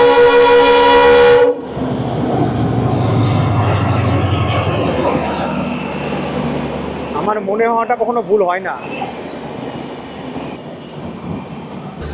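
Garib Rath Express on its Agartala to Kolkata run, with a steady loud rumble of the moving train under close conversation and a brief sharp burst at the very start.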